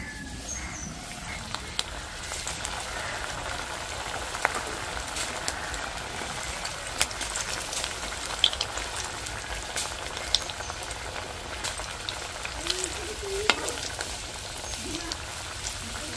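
Potato and noodle snack pieces fry one by one in hot oil, a steady crackling bubble running throughout at moderate level with scattered sharper pops.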